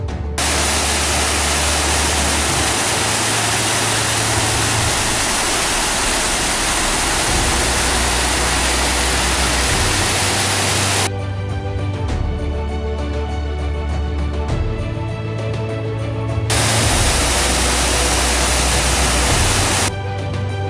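Roaring Naagartas waterfall at Amboli, a massive, loud, unbroken wash of falling water with a deep low rumble, filling the whole stretch and briefly thinning in the middle.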